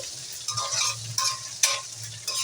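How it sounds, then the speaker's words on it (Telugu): Onion and green chillies fry in an oil tempering over a low flame, a steady sizzle broken by several distinct scraping stirs of a spoon against the pan, close and clear with no talking. "ఉల్లిపాయ పచ్చిమిరపకాయలు అవన్నీ వేసేసాను తాలింపులు ఇంకా అవి వేపుకోవాలి"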